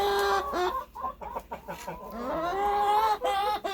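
Hens cluck and chatter close by in a continuous stream of rising and falling calls.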